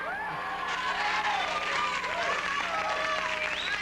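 Applause from a studio audience at a 1978 late-night television talk show taping, steady and dense throughout, with a broad crowd wash and some cheering mixed in.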